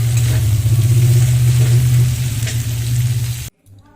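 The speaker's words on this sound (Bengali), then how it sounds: "আমি এখানে লবণ হলুদ মাখানো চিংড়ি মাছটা দিয়ে দেবো, দিয়ে আরও সুন্দর করে কষিয়ে নেব।" Turmeric-and-salt-coated prawns sauté in hot spices, giving a loud, steady close sizzle that cuts off abruptly near the end.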